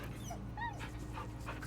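A dog in Baldur's Gate 3 gives a few soft, high whimpers and short whines over a low steady hum of game ambience, quiet and close.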